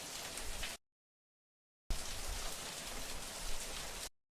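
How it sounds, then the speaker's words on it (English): Heavy rain pours down in a dense, steady hiss, heard in two loud bursts separated by about a second of silence, the second burst longer than the first. "That's a heavy rain."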